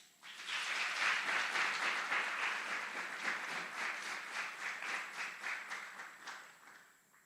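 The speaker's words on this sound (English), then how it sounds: "Please join us in giving a round of applause to these outstanding drill sergeants and instructors." A sizable audience at an Army aviation brigade graduation ceremony at Fort Eustis breaks into steady, sustained applause that continues evenly for several seconds before tapering off at the end.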